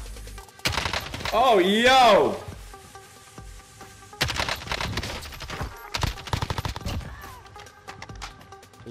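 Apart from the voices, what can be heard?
gunfire in the video game Call of Duty: Warzone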